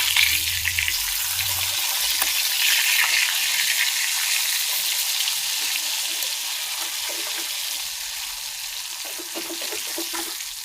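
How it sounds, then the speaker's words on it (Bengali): Pangas fish frying crisp in hot oil, a steady close sizzle and crackle that runs the whole time with no talking. "মাছটি কড়া করে আমি ভাজলাম।"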